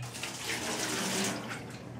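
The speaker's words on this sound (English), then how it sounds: "Dump the water out." Water is dumped out of a hookah base into a sink, a continuous splashing pour, close and fairly loud, lasting about two seconds.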